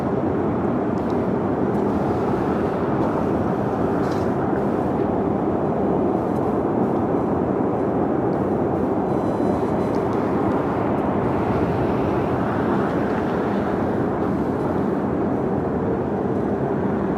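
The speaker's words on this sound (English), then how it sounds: "Next takeoff on 25 right is Southwest Airlines Flight 552 heading to the Valley of the Sun at Phoenix, Arizona on a 737-700" A Southwest Airlines Boeing 737-700 takes off from runway 25R at Los Angeles airport, its jet engines making a continuous broad distant roar that holds steady throughout.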